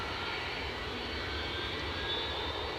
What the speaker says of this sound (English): A319-100 inbound from Munich.